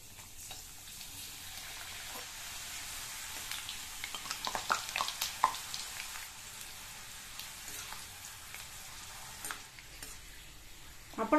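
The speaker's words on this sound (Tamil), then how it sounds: "நம்ம அப்பளத்தை பொரிச்சிடலாம்." Steady sizzling of ring-shaped appalam frying in hot oil, with crackles and pops rising in the middle and occasional stirring or clinking.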